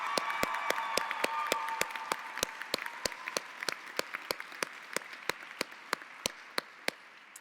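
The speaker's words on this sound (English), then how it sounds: "One more round of applause for Andrea" Sustained audience applause at a Columbia postbac premed class day ceremony, a dense wash of many hands clapping with sharp individual claps standing out, slowly fading over several seconds, no talk.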